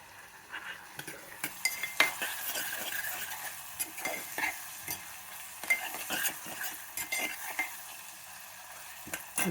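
Okra stuffed with masala frying in a pan, with a soft sizzle under repeated clinks and scrapes of a spoon stirring against the metal, close and fairly quiet.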